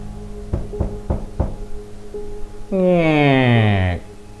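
Four sharp knocks on a door, steady and evenly spaced, followed by a moment of quiet and then a long sliding tonal whoosh.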